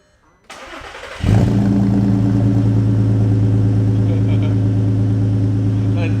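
A VR6 Audi A3 engine cranks briefly, then catches and settles into a loud, rough, throaty idle with the muffler deleted.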